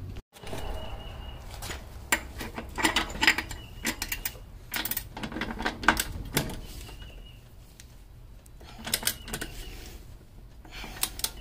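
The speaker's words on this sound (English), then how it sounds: "I'm going to go ahead and torque this down now" Mechanical clicking and ratcheting from a torque wrench tightening an upper control arm bolt on a 1995 Mercedes S500 W140, close and intermittent, coming in irregular bursts with quieter gaps between.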